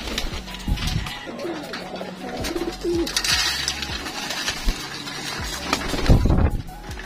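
Young racing pigeons coo in their loft while being conditioned for a derby, several birds producing low, throaty calls over a steady background murmur, with a louder scuffle or flutter near the end.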